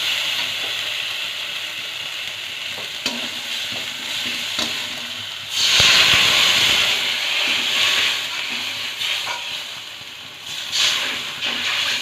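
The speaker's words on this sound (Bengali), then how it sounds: "মশলা থেকে তেল ছেড়ে দিয়েছে। এবার জল দিয়ে দেবো।" Water is poured into hot oil and spice masala in a pan for a mustard and poppy seed okra dish, producing a sudden loud burst of hissing and sizzling over a steady background fry that then settles.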